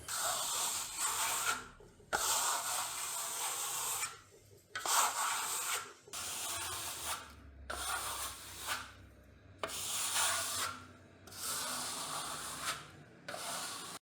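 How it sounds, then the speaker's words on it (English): Vasari Marmorino plaster being burnished to a sheen, a close, steady rubbing hiss in long strokes of roughly one to two seconds, broken by short pauses between passes. "So here we go with the burnishing."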